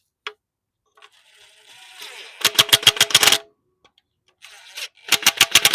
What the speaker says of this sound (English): I'm just using the Impact 3/8 gun to tighten up on the screws right now